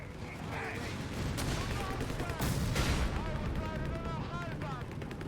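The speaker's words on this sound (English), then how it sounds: "Maybe one or two more shots from the Marder is enough to kill it." Marder tank destroyers firing on a Sherman in Company of Heroes: a few heavy booming gun shots and explosions ring out over dense battle noise, while a commentator talks throughout.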